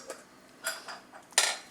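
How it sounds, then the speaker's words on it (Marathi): A pressure cooker lid is removed after cooking mutton paya soup, with a few short, close metallic clinks and clatters spaced apart over quiet, and no talk. "आपण झाकण काढूया।"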